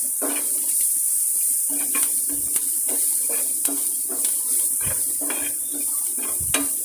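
Curry leaves go into hot frying oil for a bottle gourd curry. A steady, close hiss of sizzling runs throughout, broken by intermittent scraping and stirring clatter from a spoon in the pan.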